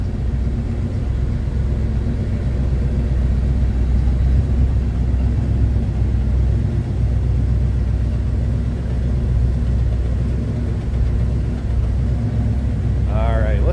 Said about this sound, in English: A little rumble coming out of that 302.